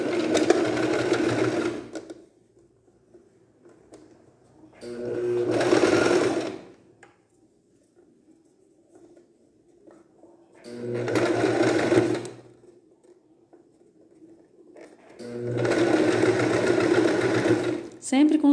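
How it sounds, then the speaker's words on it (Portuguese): Domestic sewing machine running a straight stitch on knit fabric for a child's bomber jacket, four loud bursts of steady motor whir separated by quiet gaps, with faint low hum and sounds of fabric handling between runs. "agora eu vou costurar com o ponto reto"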